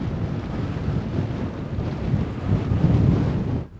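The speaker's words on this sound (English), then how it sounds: "You can hear the wind. It's very windy." Strong wind sweeps across an airplane graveyard high up in Europe, buffeting the microphone with a loud, continuous low roar that swells near the end and then cuts off abruptly.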